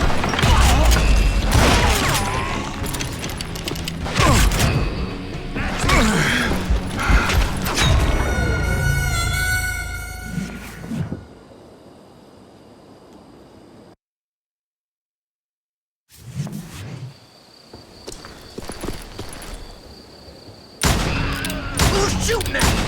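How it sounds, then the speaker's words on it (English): Gunfire in the Western shooter Call of Juarez Gunslinger, a dense, loud volley of shots and impacts that thins into mechanical creaks and a ringing tone, drops to silence, then resumes with more shots. "Shooting at us! We're under fire!"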